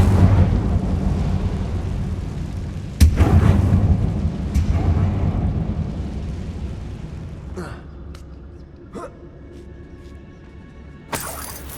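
A fire spell cast in the Hogwarts Legacy video game gives a loud crackling burst that roars and slowly fades, with sharp cracks and brief bangs following and another sudden burst at the end.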